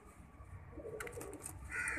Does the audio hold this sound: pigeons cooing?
yes